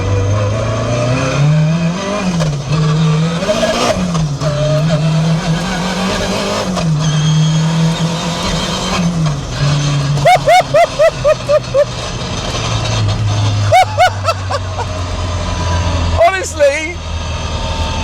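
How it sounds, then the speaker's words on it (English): A K20-engined Toyota MR2 accelerates hard, the engine note rising and dipping through gear changes, with sharp crackling pops from the exhaust between shifts and a person talking over the drive. "Wait till you hear this gear shift. It's so hardcore."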